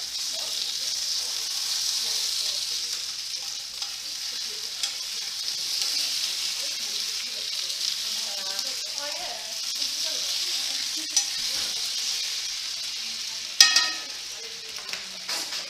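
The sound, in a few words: potatoes frying and being stirred in a pan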